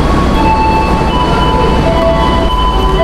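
A KRL commuter train waits at a station platform, giving a loud, steady low rumble and hum with faint tonal whines over the top and no talk.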